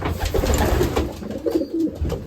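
Racing pigeons coo in a loft, soft repeated throaty calls close by over a low, steady background hum.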